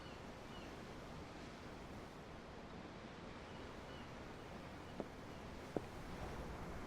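Ocean waves wash steadily in the Tales of Arise video game, a soft, continuous surf hiss with a couple of faint clicks near the end, no voices present.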